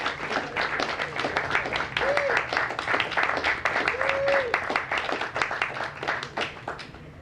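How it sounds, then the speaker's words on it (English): A crowd at a Delaware Hispanic Heritage Month declaration gives a round of applause for Isaura, steady clapping heard at a moderate distance with a couple of brief cheers rising over it. "let's give her another round of applause"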